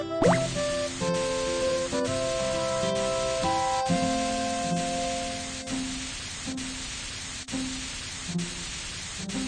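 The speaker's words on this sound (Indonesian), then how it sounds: "Semprotkan cat ke rumah anjing dengan warna yang cantik." A steady hissing spray of paint onto a dog house in a children's cartoon game, continuous for several seconds with a few soft clicks and a short musical chime at the start.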